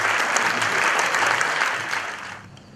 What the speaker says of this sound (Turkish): alkışlarınızla sahneye davet